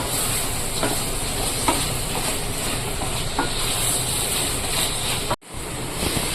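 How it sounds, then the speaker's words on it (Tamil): Constant hiss and sizzle of onions and tomatoes sautéing in a pan for fish curry, with occasional stirring scrapes, ending in a brief cut. "தக்காளி நல்லா வதங்குற அளவுக்கு நல்லா வதக்கி விட்டுக்கலாம்"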